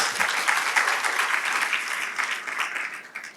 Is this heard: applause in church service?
yes